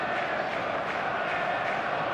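Stadium crowd in a football video game, a steady dense roar of many voices, loud and unbroken throughout.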